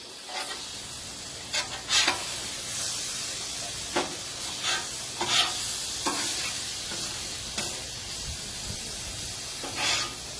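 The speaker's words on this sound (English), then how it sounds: "I'm gonna stir it all up a little bit." Steak with soy sauce sizzles loudly on a Blackstone griddle while a spatula scrapes and stirs in irregular strokes, a steady hiss of frying running underneath throughout.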